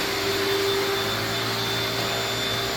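A vacuum cleaner runs steadily while a house is being cleaned, giving a loud, constant motor whine with a sharp high tone and no breaks or talking.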